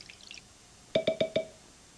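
Cartoon water drips onto freshly planted flower seeds in a Japanese animated short: four bright, evenly spaced plinking drops in quick succession, clear and close, following a faint sparkly chime, with no talking.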